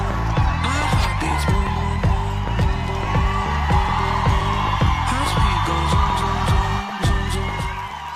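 A live audience at a nutrition talk shouts, whoops and cheers loudly and continuously, a dense crowd roar with rhythmic clapping and yells throughout.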